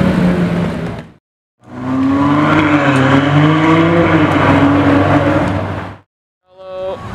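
A McLaren 765LT Spider supercar on a street, its engine roaring loud and close as it drives past, the note rising and falling, with two abrupt silent breaks in the sound.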